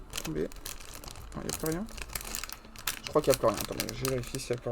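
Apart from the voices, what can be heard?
plastic packaging of a LEGO Super Mario set crinkling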